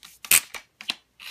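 A SilencerCo Saker 556 suppressor locks onto its mount with a few crisp, close mechanical clicks in quick succession, the sound heard alone.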